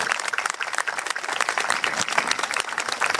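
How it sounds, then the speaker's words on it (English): Sustained applause for newly naturalized American citizens at a county ceremony, dense steady clapping from a sizable crowd throughout, fairly loud and close with no voices standing out. "Please join me in a round of applause for them"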